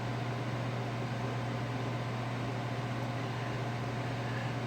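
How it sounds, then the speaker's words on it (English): The HVAC system in a bee barn runs in heating mode, giving off a constant, even whoosh of airflow over a low mechanical hum that stays steady throughout. "And then the heat kicks in, okay?"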